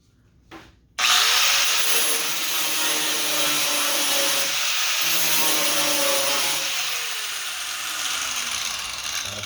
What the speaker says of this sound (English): Get my grinder back on it